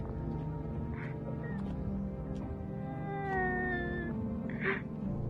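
A cat meows a few times in the video game No, I'm Not A Human, with drawn-out, wavering calls over a steady low background hum.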